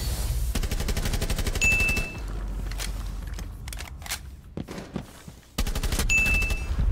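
Rapid automatic gunfire from a shooter video game, two long sustained bursts at start and end with scattered single shots and impacts between, loud and close.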